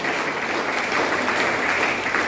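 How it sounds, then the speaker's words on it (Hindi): An audience in a Catholic church gives a burst of steady, dense applause that holds evenly throughout. "तो कृपया जोर से जॉनसन के लिए हम लोग जोर से ताली मारेंगे।"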